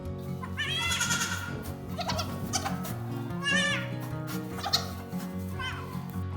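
Goats in a barn bleat repeatedly, several wavering calls from close by and a little farther off, spaced over a few seconds with soft rustling between them.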